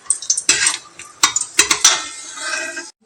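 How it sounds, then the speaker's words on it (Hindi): Onion pieces hit hot oil and are stirred in a pan, sharp bursts of sizzling with scraping utensil clatter against the metal, then a steady frying hiss that stops abruptly at the end. "ऑयल हो जाए तो फिर मैं इसके अंदर जो है ना प्याज डाल दूँ।"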